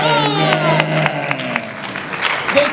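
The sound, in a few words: audience applause at a comic con panel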